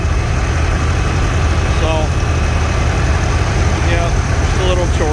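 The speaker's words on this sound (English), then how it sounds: "just a little chore tractor" A small gas chore tractor engine idling, a loud, steady low rumble that runs throughout, with someone speaking briefly over it.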